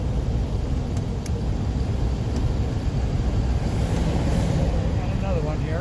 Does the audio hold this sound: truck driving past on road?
yes